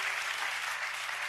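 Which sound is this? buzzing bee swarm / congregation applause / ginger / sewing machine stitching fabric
congregation applause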